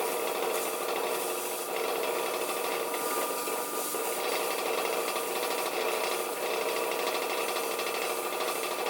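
Steady, close rasping and rubbing of a file or deburring tool on a bronze knob, continuous with no pauses and no talk.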